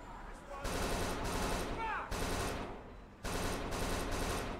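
Sustained automatic gunfire from a video game in several long bursts with short gaps, loud and dense, with voices talking briefly in between.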